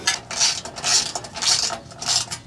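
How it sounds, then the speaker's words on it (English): M8 screws are started by hand into a skid plate shield on a Toyota Land Cruiser, producing four rhythmic bursts of light metallic clicking and rattling, close and fairly loud. "And we'll just get these started."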